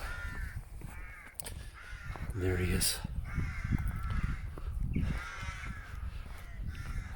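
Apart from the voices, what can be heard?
crows cawing in trees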